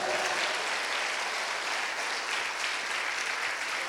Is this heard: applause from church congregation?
yes